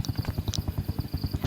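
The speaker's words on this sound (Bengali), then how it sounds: "দেখেন এই হেলিকপ্টার" A helicopter in a video game makes a fast, regular rotor chop, close and even in loudness, with no voices over it.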